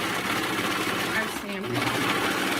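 A sewing machine stitching a rolled hem, running as a steady, close, continuous whir with a dense rapid needle rhythm and a brief dip partway through, under someone speaking.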